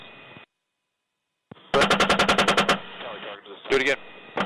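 An AH-64 Apache helicopter's cannon fires a rapid, loud burst of about a dozen evenly spaced rounds, framed by crackly radio chatter before and after.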